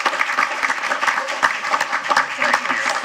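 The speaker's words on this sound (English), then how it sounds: "We can have a round of applause for the Red Cross." A council meeting audience applauds the Red Cross, a steady wash of clapping from a moderate crowd that holds evenly for about three seconds, with some voices mixed in.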